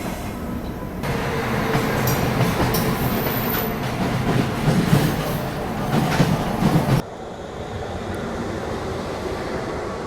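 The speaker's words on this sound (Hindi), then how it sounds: "बाकी ये कोई पैसेंजर ट्रेन है जो ऐसे ओवरटेक करके जा रही है हमको?" A passenger train passes on the neighbouring track, overtaking a delayed train, with loud rushing rumble and clattering wheels for several seconds. The noise then drops off abruptly to a quieter background hum.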